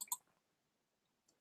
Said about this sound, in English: let me click on RRI dataset